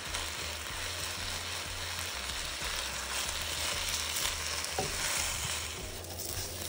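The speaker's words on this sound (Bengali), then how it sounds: "এবার ঘিয়ের মধ্যে পোলাও দিয়ে অল্প একটু আদা আর রসুন বাটা দিয়ে ভাজবো জাস্ট।" Polao rice fries in ghee with ginger and garlic paste, a dense and steady sizzle close by with a low hum running underneath and a brief metallic tap near the end.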